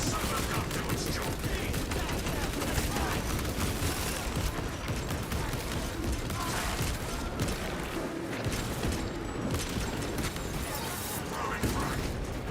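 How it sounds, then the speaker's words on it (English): Sustained gunfire from a video game skirmish, with bursts of rapid shots and heavy weapon fire running dense and loud throughout, under occasional talk. "Let the silver gun do its job."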